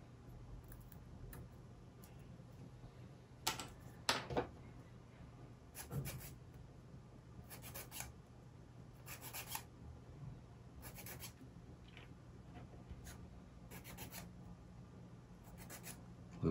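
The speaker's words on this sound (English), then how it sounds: "Little sanding." Light hand sanding of laser-cut wooden UGears model parts, a soft quiet scratchy rubbing in short bursts with pauses, close by and faint.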